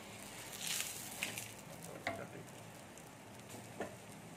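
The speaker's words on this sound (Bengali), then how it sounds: "এগুলোকে আমি এবার আস্তে আস্তে ভেজে উল্টিয়ে নেবো" Eggs sizzle and fry in hot oil for an egg curry, a steady soft crackle broken by a few sharp pops and light stirring clicks, close and fairly quiet.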